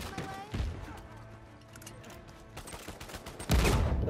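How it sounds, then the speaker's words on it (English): A grenade blast in the Uncharted 4 multiplayer shooter, a loud booming burst near the end amid scattered gunfire and thuds, with a voice talking over the action. "that was a good nade"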